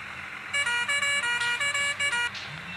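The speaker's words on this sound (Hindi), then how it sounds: "आप लोगों को एक बार हॉर्न सुनो" A truck horn in the video game Truck Masters India honks in a rapid series of short blasts, loud and close, over a low engine hum.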